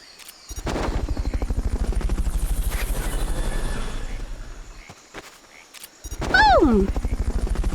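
A helicopter in the video game Metal Gear Solid: Peace Walker throbs with a steady, close rotor chop that dips briefly and then swells again, with a short sweeping whistle-like effect near the end.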